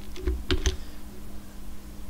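Computer keyboard keys tapped a few times in quick succession near the start, crisp and close, then quiet room tone with a faint steady hum.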